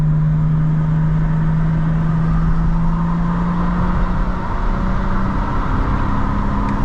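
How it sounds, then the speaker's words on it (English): Exhaust burble from a 2025 BMW M4 CS with active sound design switched off, a loud steady low engine drone with a slowly shifting tone heard up close from inside the car, alone with no talking. "It's got way more burble than a competition, and that's real burble too"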